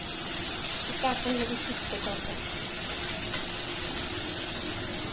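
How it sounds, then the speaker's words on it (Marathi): Tomato and green chili chutney sautés in a hot pan, a steady, loud sizzle and hiss running throughout, with faint stirring and a voice briefly heard underneath. "सगळे व्यवस्थित परतून घ्यायचं"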